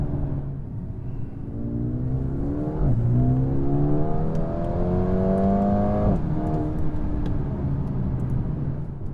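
2020 Mercedes-AMG A35 sedan in sport exhaust setting accelerating hard from inside the cabin, engine note rising through two gear changes with a brief dip at each shift, loud and steady.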